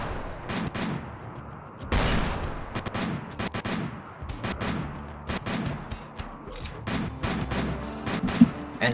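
Repeated gunshots from a video game shootout, sharp cracks arriving in irregular bursts and single shots over a busy, rumbling game backdrop, fairly close and loud throughout.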